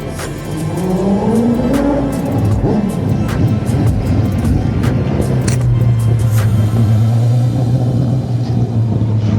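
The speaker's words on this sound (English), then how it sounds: "the Mazda 767B almost ran me over as it came off the track." The four-rotor Mazda 767B race car rumbles and revs close by as it comes off the track at a festival, its engine note rising and then settling into a loud, steady drone.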